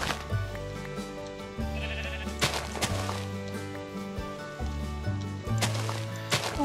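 Several sheep bleat repeatedly in the video game Mystical Forest, their wavering cries layered over background music and soft ambient sounds.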